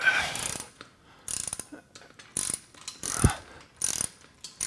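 Ratchet wrench with a 1/2 inch socket tightening bolts while assembling a Body Solid EXM3000 home gym, five bursts of rapid clicking strokes separated by short pauses, close and fairly loud, no talking.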